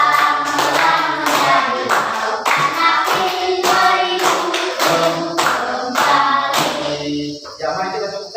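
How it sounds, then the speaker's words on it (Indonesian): Rhythmic hand clapping at a classroom lesson keeps a steady, loud beat for several seconds, with tonal voices or music running underneath it. "Ya, mari kita tepuk tangan untuk anak Rizka."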